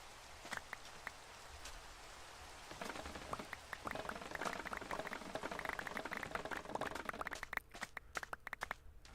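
Steady rainfall in a Minecraft Sleepless Hardcore world, a dense patter of drops that grows fuller and heavier partway through, with scattered sharper splashes and no talking.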